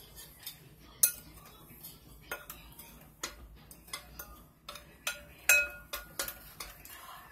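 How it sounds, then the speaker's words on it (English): Dinner roll ingredients are mixed in a mixing bowl, with sparse, quiet clinks and taps of a utensil against the bowl at irregular intervals and near silence between them. "Mix all your ingredients."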